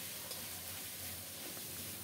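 Spice paste being sautéed with turmeric for a rohu fish curry, sizzling in a pan with a steady, moderately quiet hiss and faint stirring, no talk.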